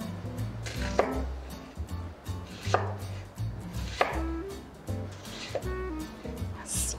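A knife chops a vegetable on a cutting board for a fine brunoise dice, cooking a dish for a pot, with four or five sharp, close strikes spaced about a second apart over a steady low hum.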